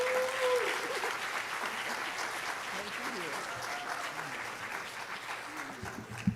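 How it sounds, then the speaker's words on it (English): An audience applauds steadily throughout at a high school Hall of Fame induction ceremony in Lansing, a dense, even wash of clapping with faint voices and a brief tonal sound near the start. "let's give a round of applause for Ms."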